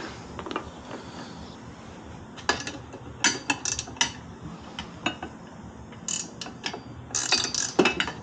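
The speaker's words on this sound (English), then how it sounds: "got my 17 millimeter ratcheting wrench and slowly take it off" A 17 mm ratcheting wrench loosens a bolt on a Razor RSF650 electric motorcycle during a fork swap. Irregular bursts of fast metallic ratchet clicks come up close, with short pauses between strokes and no talk.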